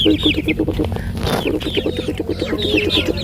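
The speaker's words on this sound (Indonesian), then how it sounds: "Ini juga banyak sekali nih ayam ini" Several chickens cluck repeatedly in a steady, busy chatter in a remote village by a teak plantation, with higher bird calls mixed in and a brief louder burst partway through.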